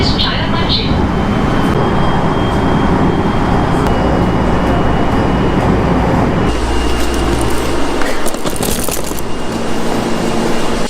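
Loud, continuous rumble inside a local Japanese train riding toward Chayamachi, with rolling track noise and a shift in the sound partway through, under a person's talking.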